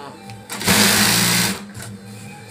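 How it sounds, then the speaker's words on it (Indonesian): A sewing machine stitches a foam-layered bedsheet, its motor whirring up into a loud, steady hum for about a second before slowing, with a quieter mechanical background before and after. "Dan kita akan jahit lagi dari sebelah bawah, sama caranya itu seperti tadi"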